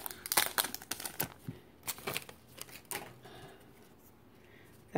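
A Pokemon card booster pack from a Charizard Red & Blue collection box is ripped open by hand, giving a burst of crackly foil crinkling and tearing that fades into quieter rustling, then a sharp crinkle at the end.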